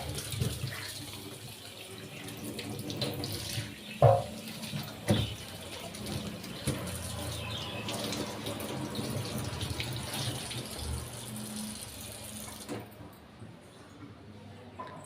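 A hill pumpkin is rinsed under a running kitchen tap, with a steady faint stream of water broken by splashes and a few knocks as it is handled.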